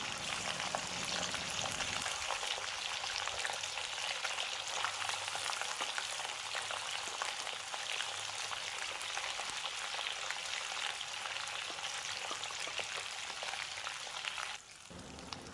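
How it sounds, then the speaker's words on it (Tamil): Boiled mutton pieces fry in hot sesame oil, making a dense, continuous sizzle and crackle close by that stays steady throughout, with a brief shift near the end and no talking. "எண்ணெய் சூடானாக்கில் நம்ம வேக வச்சுருந்த மட்டன் பீஸை அதில் சேர்த்துக்கணும்."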